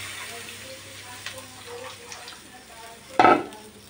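Water is poured into a pan of spice paste that has been frying in oil for a thin singi fish curry with raw banana. A low, quiet simmer gives way to a sudden loud hissing burst near the end.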